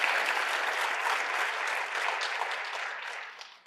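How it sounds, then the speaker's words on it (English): A conference audience claps warmly for a panel discussion, a dense, even round of applause that holds steady and then tapers off at the end. "Can we have another round of applause, please, for that panelist and great conversation?"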